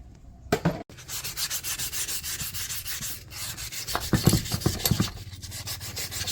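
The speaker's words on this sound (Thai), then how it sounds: "แล้วเดี๋ยวก็ขัดกระดาษทรายสักนิดนึงนะครับ" Sandpaper rubs by hand against a brake caliper in quick, repeated back-and-forth scrubbing strokes, close and fairly soft, with a brief pause early on.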